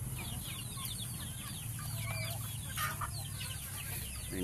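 Chickens cluck softly on a farm in the rural provinces, scattered short calls at a distance over a steady hum and high background whine.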